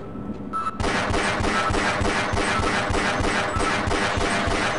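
Rapid automatic gunfire in the game Half-Life rattles in a steady burst of evenly spaced loud shots that runs for several seconds after a brief quiet start.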